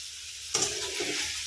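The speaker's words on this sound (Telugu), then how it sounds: "వాటిని బాగా కలుపుకోవాలి." Tomato pieces for sambar being stirred in a hot frying pan, a soft sizzle that bursts louder as the spoon scrapes through, with a second scrape near the end and no voices.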